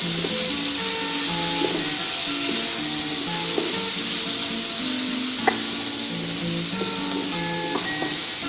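Leafy greens cooked with eggplant sizzle steadily in a pan, with a continuous frying hiss and occasional scraping clinks of a spatula as they are stirred, close and even throughout.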